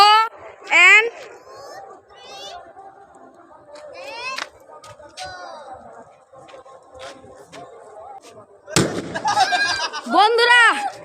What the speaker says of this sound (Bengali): বোম ফাটবে এখন